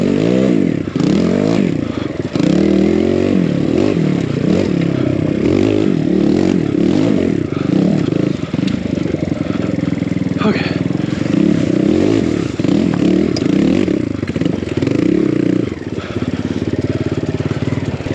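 Built Kawasaki KLX140 dirt bike engine loud and close, working hard and revving continuously over rough enduro trail obstacles, with clattering and scraping throughout.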